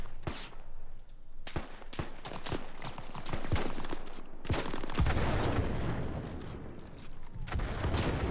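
A WW2 mortar barrage in Arma 3 Spearhead 1944, heard as repeated close, loud explosions in an irregular rhythm over constant rumbling battle noise, with scattered crackling gunfire between the blasts.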